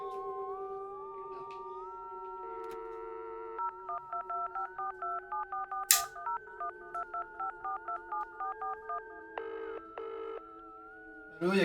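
Telephone keypad tones dialed in a phone booth in the Kid A Mnesia video game: a steady dial tone, then a brisk run of about a dozen evenly spaced beeps, a click, and further tones, clear and close.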